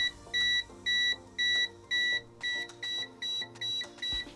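Low beeps from a Kaiweets HT208D clamp meter in voltage detector mode, a steady pulsing series of about eight or nine short tones, close and clear with no talking.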